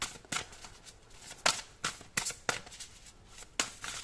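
Tarot cards shuffled and drawn, a series of crisp, quiet riffling snaps and flicks spaced irregularly, close and alone without talk.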